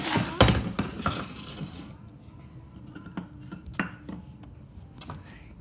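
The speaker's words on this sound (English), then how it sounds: "and then we're gonna keep mixing" A utensil clinks and scrapes against a bowl while baking batter is being mixed, with a few sharp knocks early and then lighter, scattered taps over a low background hum.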